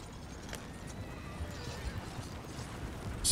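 Horse neighing and clip-clopping hooves in Red Dead Redemption, a faint whinny and scattered hoof steps under ambient noise, ending in a sudden louder burst.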